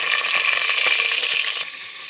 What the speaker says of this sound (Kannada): ಎಣ್ಣೆ ಕಾದಿದೆ, ಸ್ವಲ್ಪ ಈರುಳ್ಳಿ ಹಾಕ್ಕೊತೀನಿ